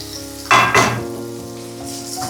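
Tomatoes sizzling in a pan over low heat, a soft steady frying hiss with a couple of louder bursts like stirring near the start.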